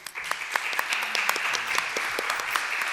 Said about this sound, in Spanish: Quiero que le demos un fuerte aplauso a Sebastián.